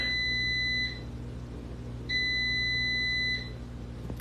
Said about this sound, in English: It's the air fryer.